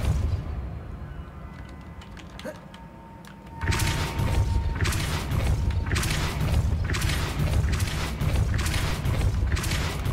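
A Depulso spell cast in the Hogwarts Legacy video game: a sudden burst after a quiet stretch, then a sustained rushing, crackling surge of magical force that stays loud to the end.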